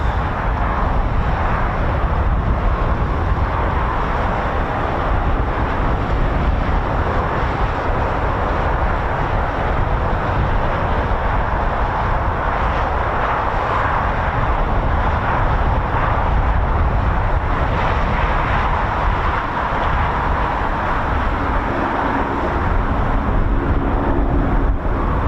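Steady, loud roar of a Eurofighter Typhoon jet flying at RAF Waddington, a broad continuous rumble sustained for the whole stretch without pause or voices.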